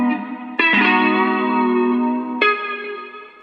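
Sustained electric guitar notes drenched in lush Valhalla VintageVerb reverb at a 30% mix, each plucked note blooming into a long, wavy ambient tail; no voices.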